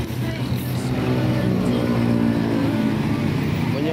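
A PO Haryanto Maestro bus sits at a city bus terminal, its diesel engine a loud, steady low rumble that swells slightly as if revving, close by throughout with no talking.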